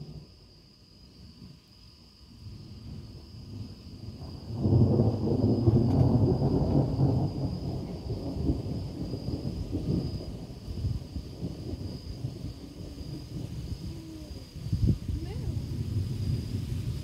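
Thunder from a passing thunderstorm cell over a mobile home, a deep distant rumble that swells and lingers against a faint outdoor background with steady insect-like hum.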